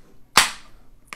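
A can of hazy IPA from Sonoma Springs Brewing Company cracks open with one sharp, loud hiss that fades over a fraction of a second, and a fainter click follows near the end.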